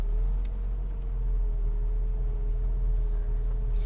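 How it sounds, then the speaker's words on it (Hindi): A new Renault Duster 1.3L with a six-speed manual gearbox pulling away in second gear, a steady low engine drone and rumble heard from inside the cabin, with faint road noise and no talk. "यहाँ लगाया मैंने सेकंड गियर और एक बार उठा के आपको दिखाता हूँ गाड़ी को।"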